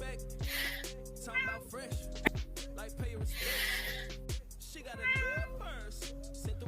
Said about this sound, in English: Why does this cat always come over here when I start?